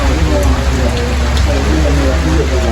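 Heavy rain falls on a street in Port Maria, St Mary, a loud dense wash of steady patter with no pauses.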